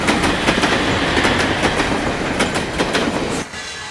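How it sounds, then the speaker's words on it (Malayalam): A passenger train bound for Shirdi rolls into platform one, loud and close, with rhythmic clickety-clack of wheels over rail joints and a heavy rumbling roar that drops away abruptly near the end. "ഒന്നാം നമ്പർ പ്ലാറ്റ്ഫോമിലേക്ക് ട്രെയിൻ വന്നുകൊണ്ടിരിക്കുന്നു."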